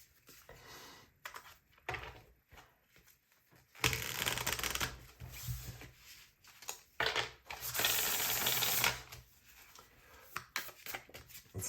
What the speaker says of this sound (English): Let's do a hard shuffle.